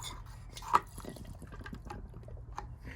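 Coolant mixture pumped through a VW Golf GTI cooling system, faint liquid gurgles and drips with one sharper splash, low and irregular against a quiet garage background.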